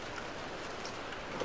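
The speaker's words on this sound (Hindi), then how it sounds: "अभी देखो आप कैसे बारिश हो रही है भाई।" Steady rain patters down at a camping spot in India, a soft, even hiss of drops on surfaces with no voices, quiet and continuous throughout.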